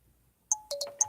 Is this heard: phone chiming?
yes